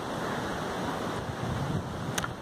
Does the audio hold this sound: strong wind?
yes